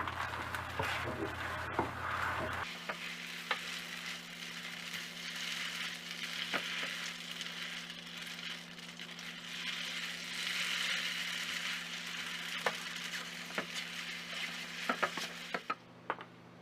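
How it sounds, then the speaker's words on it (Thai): Wide rice noodles stir-fried over high heat for a pork rad na dish give a soft, steady sizzle with occasional light scrapes and taps of the spatula, fairly quiet and without voices. "เราจะผัดเส้นโดยใช้ไฟแรงแบบนี้จนกระทั่งเส้นเริ่มแห้ง แล้วก็มีความเกรียมนิดๆค่ะ"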